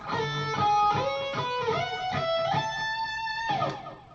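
An electric guitar plays a quick run of notes that climbs upward in pitch, clear and close, with no voice.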